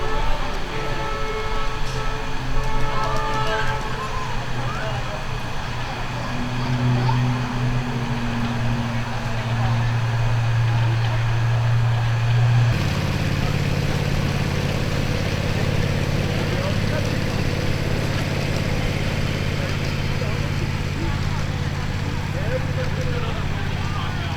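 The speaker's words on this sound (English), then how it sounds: "This is really sophisticated model railroading. Listen to this steamer." A live steam model locomotive on a model railway chuffs and hisses steadily, with mechanical rumbling and people talking nearby in the background.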